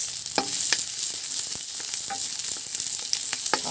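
Onions hit a hot pan for chicken nilaga and sizzle steadily up close, with a few sharp scrapes and taps of stirring over the constant hiss.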